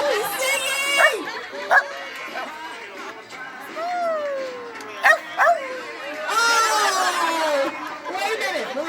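A costumed dog yips and whimpers along to a song at a Halloween animal costume event, with howl-like rising and falling notes and short barks heard over crowd chatter and talk.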